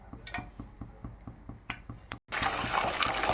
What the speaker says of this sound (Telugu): ఇప్పుడు కాయలు వేసేసాను. నూనెలో బాగా వేయించుకుందాం అయితే.